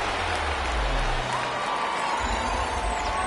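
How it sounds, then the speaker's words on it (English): A stadium crowd in a football video game roars and shouts while watching a replay, a loud, continuous wash of massed noise with no distinct individual voices. "Plenty of shouts from this crowd as they watch the replay."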